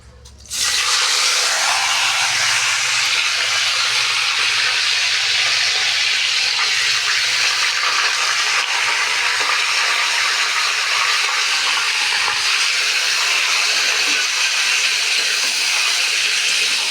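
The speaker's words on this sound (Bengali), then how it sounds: "এবার মাংসটা দিয়ে একটু ভেজে নেব" Chicken meat dropped into hot oil in a pan, bursting into a loud, dense, continuous sizzle that starts abruptly after a brief silence and holds steady and close throughout.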